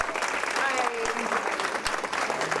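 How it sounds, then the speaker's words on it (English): Audience applause for a guest speaker at a conference, a steady wash of clapping throughout with some voices mixed in, moderately loud and close. "let's go ahead and give Noah another round of applause"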